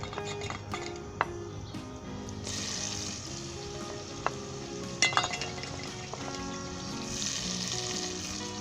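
Spices and tomatoes hit hot oil in a pot for a chicken-flavoured potato shorba, producing a loud, steady sizzle and fry hiss. A few sharp clinks and scrapes of a spoon against the pot break in, and the sizzle swells as the ingredients go in.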